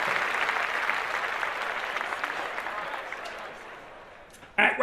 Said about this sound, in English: I want to clap this up again